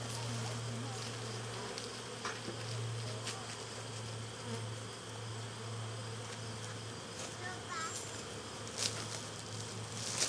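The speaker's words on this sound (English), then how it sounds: "These guys are very gentle bees" A dense, continuous buzzing of many honey bees close by, steady and moderately loud, with a low drone underneath.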